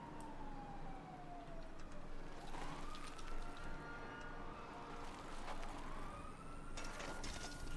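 Police sirens wail in GTA 5, rising and falling in long sweeps that overlap throughout, steady and moderately distant within a busy hum of game ambience and traffic.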